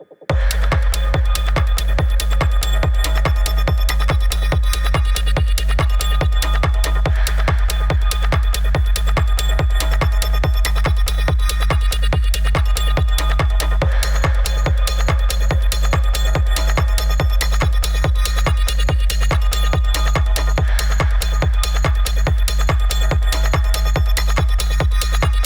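A dark, groovy techno track built from retro sound-effect samples drives along loud and steady, with a relentless pounding kick on every beat under layered bright, textured sounds.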